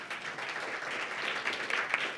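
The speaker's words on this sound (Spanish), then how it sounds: "Un aplauso para Tamar, por favor." An audience at the 2022 SSIG Argentina conference applauds after a keynote talk, with dense, lively clapping of moderate loudness and a few sharper individual claps standing out.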